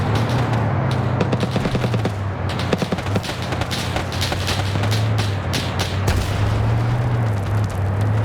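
Heavy weapons fire rattles through an Arma PvP battle: rapid machine-gun bursts and sharp gunshots crack repeatedly over a droning engine hum, loud and close, with rhythmic volleys throughout.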